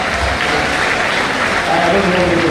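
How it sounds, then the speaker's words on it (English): Loud, dense audience applause at a national technology festival, a sustained close wash of many hands clapping with a faint voice beneath. "So Can we have a huge round of applause?"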